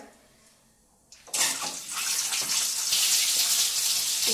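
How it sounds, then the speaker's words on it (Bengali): Eggs drop into a hot pan and burst into a loud, steady sizzle after a second of near quiet, the frying hiss holding strong to the end. "ডিমগুলো একটু হালকা করে ভেজে নিই"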